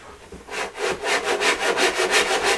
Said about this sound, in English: these Ryobas, they do have a rip and a crosscut side